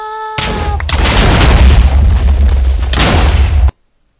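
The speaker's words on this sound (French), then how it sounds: "Ça a tellement explosé que mon ordi a craché" A huge video game explosion roars in loud and close, a sustained deep rumbling blast lasting a few seconds with a second surge near the end before cutting off abruptly into silence.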